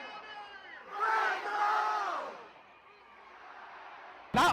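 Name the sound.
sold-out football crowd cheering at homecoming game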